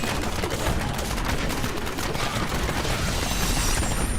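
Demon Hunter grenades in Diablo 3 burst in rapid, overlapping volleys, a loud continuous crackle of explosions and impacts with no pauses between blasts.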